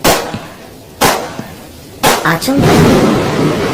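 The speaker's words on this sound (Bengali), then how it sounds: "সামনে বাজারের ভিতর থেকে তিনটা গুলির শব্দ" Three sharp, loud gunshots ring out about a second apart from inside a market during rain, the last followed by a rush of commotion and rain-like noise.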